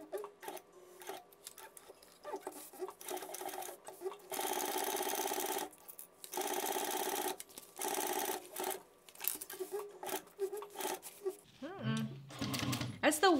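A Juki 1541s sewing machine basting waterproof canvas, running in several rapid mechanical bursts with pauses between, close and clear, with a voice talking in the gaps.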